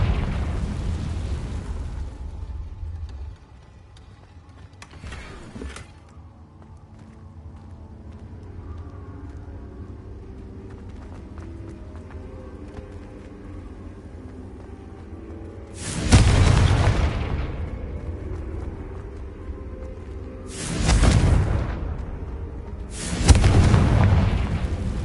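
Confringo blasting spells explode in a Hogwarts video game: an initial rumbling blast fades into a quiet hum, then several loud, booming explosions hit in succession near the end, each a sharp burst with a decaying rumble.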